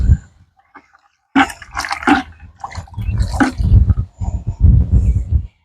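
A spoon stirs a watery slurry of morel mushrooms mixed with ash during a garden planting project, giving wet sloshing and swishing in close, uneven bursts with brief pauses between.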